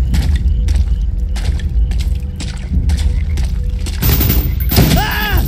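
Rapid bursts of gunfire from Call of Duty: Black Ops ring out loud and close, volley after volley with little pause, ending in a heavier, ringing flurry of shots.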